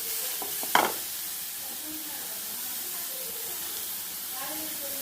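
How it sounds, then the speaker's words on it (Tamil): Carrots sautéing in a little ghee in a pan over low heat, a soft steady sizzle running throughout with a brief sharp clink of a spatula near the start and faint stirring scrapes. "நெய் போட்டு ஆஃப் பாயிலில் கேரட்டை வதக்கிக்கணும்."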